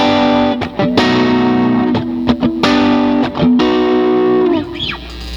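An electric guitar played through a Line 6 HD500 using an AC30 amp emulation rings out in sustained, slightly driven chords, with several quick strums and pauses before the last chord fades.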